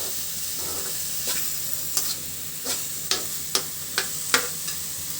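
Onions frying in mustard oil for a papaya bhorta, a steady soft sizzle broken by a series of sharp spatula taps and scrapes against the pan, close and fairly quiet.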